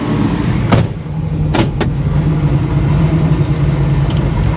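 Classic Camaro engine running with a steady low rumble, close and loud, broken by a few brief clunks, with no talk.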